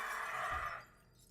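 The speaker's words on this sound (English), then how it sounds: "I hear you wrecking glass." Glass breaks in a single loud, bright shattering burst that rings briefly and then fades.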